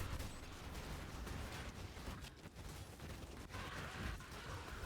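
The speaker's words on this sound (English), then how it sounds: "I hear pops. I hear explosions." Dense, continuous popping and explosive bursts from a video game fight using a Searing Bond staff build with totems and Scorch, a steady crackling barrage at constant loudness with no talking.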